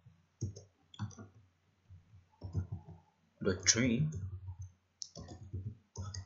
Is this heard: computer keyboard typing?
yes